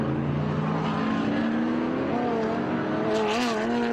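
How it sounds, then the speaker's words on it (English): Engines of 1969 Chevrolet Corvette race cars at COTA drone loudly and continuously, their pitch climbing as they accelerate, with a brief squeal of tires near the end. "Both of them racing Chevrolet Corvettes"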